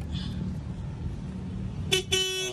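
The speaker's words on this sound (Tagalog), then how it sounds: "Okay, may busina na" Two short honks from a small e-bike horn, a brief beep followed by a longer one, close by over a low background hum.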